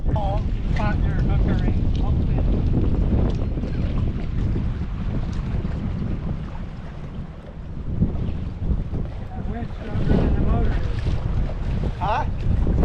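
Heavy wind buffets a microphone on a fishing boat on Lake of the Ozarks, a loud, continuous low roar that swells and eases, with people talking over it.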